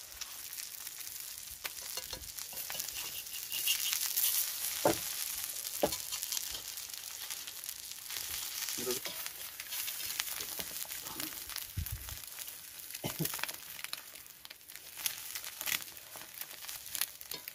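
Egg sizzling and frying in a pan for Maggi noodles, a steady crackling hiss close up, punctuated by occasional scraping and stirring clicks.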